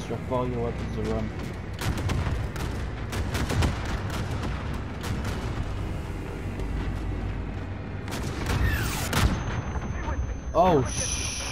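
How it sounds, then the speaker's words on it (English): Heavy bombardment in Call of Duty Warzone during the Battle of Verdansk event, with repeated deep booms and rumbling blasts mixed with scattered gunfire, continuous and moderately loud throughout. "That's a lot of fucking bombs."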